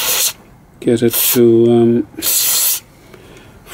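Tech 7 GT7 multi-spray is sprayed onto the engine parts of a 1961 Zundapp Combinette 428 in three hissing bursts, with a man's brief speech between them.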